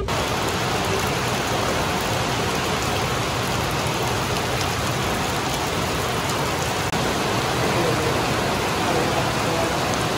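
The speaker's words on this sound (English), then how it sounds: "It's starting to rain now." Steady, heavy rain falls continuously as a dense hiss, loud and even throughout with no pauses.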